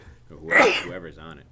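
A single sharp sneeze bursts out in a meeting room at a town selectmen's meeting, brief and fairly loud against nearby talk.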